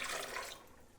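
A cup of water is poured over Brazil nuts in a blender, a short, close gush of splashing liquid that quickly fades.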